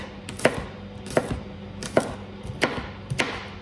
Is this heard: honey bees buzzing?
no